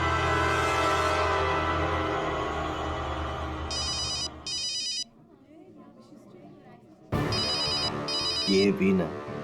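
An electronic telephone ringtone chirps in two short bursts over a loud dramatic music bed, drops away briefly, then rings again in two more bursts as the music returns.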